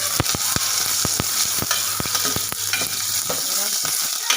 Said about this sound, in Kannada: ಈರುಳ್ಳಿ ಬೆಳ್ಳುಳ್ಳಿ ಇಷ್ಟನ್ನು ಹಾಕ್ಕೊಂಡು ಸ್ವಲ್ಪ ಫ್ರೈ ಮಾಡಬೇಕಾಗುತ್ತೆ